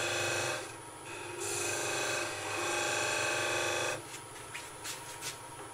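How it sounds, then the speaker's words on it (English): A spindle gouge cutting wood on a lathe while turning a goblet, giving a steady close rasping whir that swells and holds for several seconds, then drops away to lighter scraping. "we use the spindle gouge wing just to keep her round"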